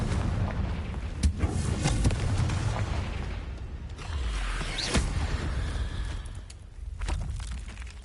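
A Confringo fire spell explodes in Hogwarts Legacy, a booming blast over a dense, continuous rumble of game effects, with a couple of sharper cracks standing out.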